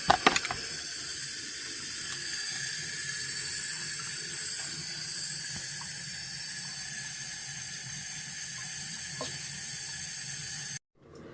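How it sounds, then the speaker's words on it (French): A tap runs steadily for several seconds with a constant hissing splash of water into a sink, then cuts off abruptly near the end. "le robinet a fini de s'écouler"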